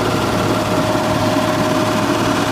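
A runaway diesel engine roars continuously at high speed, held against the limiter in one steady, dense, loud drone with no letup.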